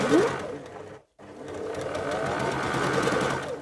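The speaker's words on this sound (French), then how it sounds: "Je vais coudre jusqu'au bout." A sewing machine stitches fabric for a zippered pouch, running in a steady close whir that stops briefly once and then resumes continuously.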